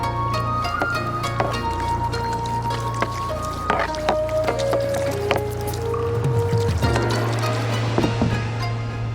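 Kayak paddling on the Chapora river in Goa through mangroves: repeated soft splashes and drips of paddle strokes at an irregular rhythm over a steady low hum, close and moderately loud, with no talking.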